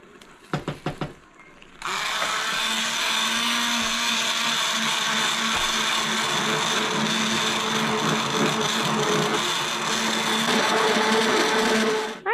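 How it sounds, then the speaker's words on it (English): A few clicks, then an immersion blender whirs on and runs steadily for about ten seconds, pureeing cooked apples into applesauce, a loud motor hum close by. "I might get my emulsion blender out"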